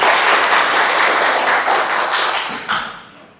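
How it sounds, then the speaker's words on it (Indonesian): A short burst of applause from a classroom group, dense and loud, fading out after a few seconds. "Tepuk tangan untuk kita semua."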